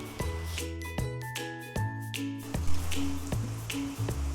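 Fried flattened rice (chire bhaja) is poured slowly into a jar, giving a series of crisp, rattling patters and light tinkling hits, close and fairly loud over about four seconds, with no talking.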